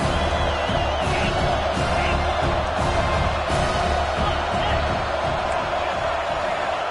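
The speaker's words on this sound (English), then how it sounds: "here comes the noise. This crowd is trying to inspire this defense to make a big red zone stop" A football stadium crowd roars to rally the defense before a red zone stop, a dense sustained wall of cheering and whoops with faint whistles, while a commentator talks over it.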